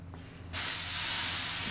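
Sandblaster nozzle blasting screened sand at a 1976 Trans Am restoration, starting abruptly after a brief quiet moment and then holding a loud, steady broadband hiss to the end.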